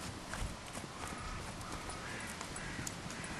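Hooves of a horse being lunged in a round pen, a faint, soft rhythmic clip-clop under a broad outdoor hiss, with no talking.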